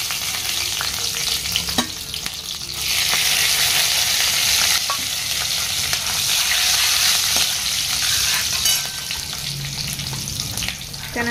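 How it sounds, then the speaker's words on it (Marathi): Garlic, cloves, cinnamon and bay leaf hit hot oil for a tempering, giving a loud, steady sizzle that swells partway through, with occasional clinks of a stirring spoon. "लसूण टाकायचं फोडणीला."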